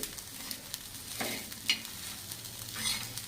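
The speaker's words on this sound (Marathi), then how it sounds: "आणि असं हलवून घ्यायचं." A spoon stirs chilli chutney made with wheat kurdai chotha and a sprinkle of salt in a hot pan, scraping steadily over a continuous sizzle, with no voices.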